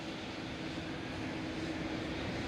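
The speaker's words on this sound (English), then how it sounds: "I see an arrival on runway" A steady, loud roar of an airliner arriving on runway 27 at Amsterdam Schiphol Airport, heard continuously with a low engine hum beneath broadband rushing noise and no voices.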